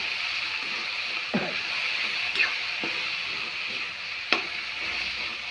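Pumpkin curry being stirred in a pan for a simple village-style jaggery bhaji, with a steady low sizzle and a few soft scraping strokes of a spoon spaced through the clip.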